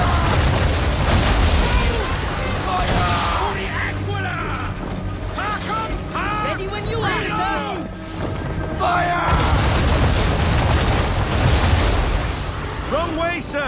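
Cannon fire and battle noise roll on from an Assassin's Creed III naval engagement against a gunboat. Loud, dense booms and mechanical clatter run almost continuously, with ship crew shouting over the din.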